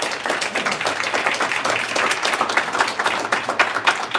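A roundtable audience at a generative AI event in New York gives a steady, lively round of applause to the panelists, dense and sustained with no voices over it.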